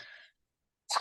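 A single short sneeze bursts out near the end after a moment of silence, preceded by a faint breathy intake at the start.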